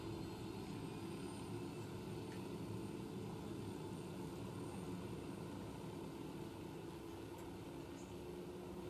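A helicopter engine in Ghost Recon Wildlands drones with a steady, continuous roar and rotor rumble, unchanging and fairly loud throughout.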